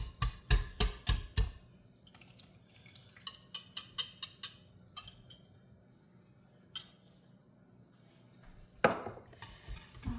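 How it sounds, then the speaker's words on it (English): Eggs and melted butter whisked in a bowl, bursts of quick metallic clinking strokes against the sides, loud and close, separated by short pauses. "Whisk, whisk, whisk. Make sure I get those eggs."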